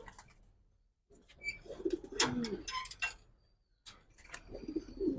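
Giribaz pigeons in a loft cooing in soft, repeated throaty bursts, close by, with a pause before the calls start and brief gaps between them, plus light clicking.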